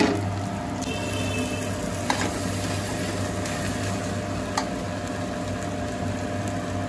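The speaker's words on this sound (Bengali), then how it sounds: "আমি এবার ম্যাশ করা আলুটা দিয়ে দেবো, আলু সেদ্ধ আলু। নাড়াচাড়া করে আমি মিশিয়ে নেবো মিশ্রণটা।" Boiled mashed potato mixture being stirred in a pan for vegetable chops, a steady soft sizzle with faint scraping, continuous and close, no talking.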